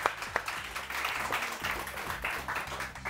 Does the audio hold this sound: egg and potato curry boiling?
no